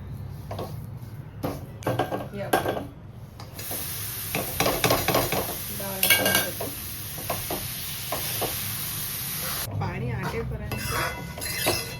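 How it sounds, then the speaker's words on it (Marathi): Jaggery melts in a pan over low heat while a spoon stirs it, giving irregular scraping, clinking and faint sizzling, with a few sharper metallic knocks against the pan. "हळूहळू मंद आचेवर गूळ घालते"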